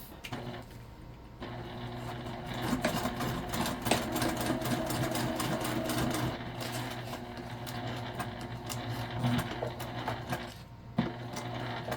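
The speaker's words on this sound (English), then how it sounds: "we're going to sew all the way around our pocket to close it off" A sewing machine stitches around the pocket of a canvas tote bag, a close, steady mechanical whirring with rapid rhythmic needle clatter running almost continuously, pausing briefly near the start and end.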